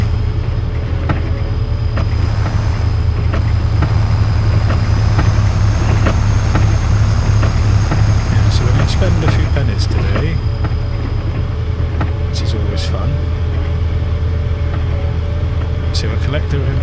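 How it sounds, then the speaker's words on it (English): A steady low vehicle engine drone from Farming Simulator hums throughout, constant and loud, with scattered clicks and a voice talking over it. "These noises, these new engine noises, are so much better."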